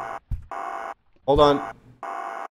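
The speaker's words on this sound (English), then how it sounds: "Oh, it's my phone." A phone rings in the video game Ghost of Tomorrow, sounding as three evenly spaced electronic buzzing tones with short gaps, while a voice speaks briefly between the rings.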